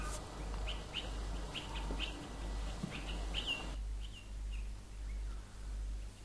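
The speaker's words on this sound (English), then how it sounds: "every job has got its perks with a nice sound of the birds in the background" Outdoors beside a pool being coated with epoxy paint, birds chirp and call in scattered short bursts. The calls are moderately distant and sit over a steady low background rumble, then thin out toward the end.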